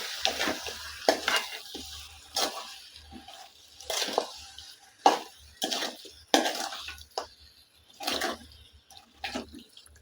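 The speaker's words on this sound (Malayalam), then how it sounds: "അതിലേക്ക് ചിക്കൻ ചേർത്ത് കൊടുത്ത് നന്നായിട്ടൊന്ന് മിക്സ് ചെയ്തെടുക്കുക" Spoon stirring chicken into curry in a pan, a series of separate scraping and clattering stirs with soft sizzle underneath, close and alone.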